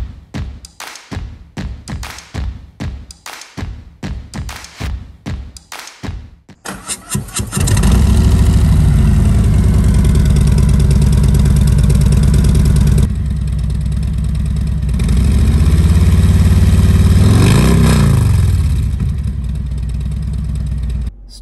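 Harley touring motorcycle fitted with Rinehart Slimline duals headers: several sharp knocks, then the engine fires into a loud, deep idle with a couple of swelling revs, close up and with no voices.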